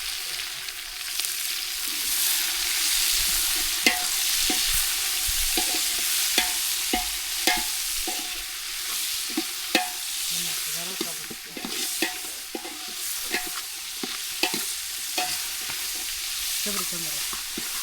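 Onions fry in plenty of hot oil in a pot during an outdoor village biryani cook-up with friends. A steady loud sizzle runs throughout, broken by frequent scraping stirs, and faint voices chatter in the background.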